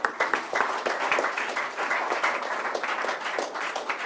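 Audience applause at a leadership speaker-series event: dense, sustained clapping from a crowd, steady and fairly loud for the whole stretch with scattered sharper claps on top.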